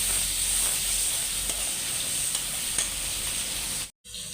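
Turmeric and chili powder masala frying in oil for a pangas fish dish, giving a steady close hiss with a few faint stirring clicks, ending in a brief cut to silence.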